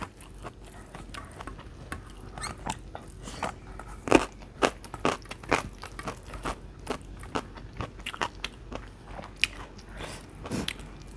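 Someone eats crunchy food with Thai chili dip alongside chicken hang lay curry and blanched vegetables, with close, repeated bites and chewing crunches in an irregular rhythm and no talk.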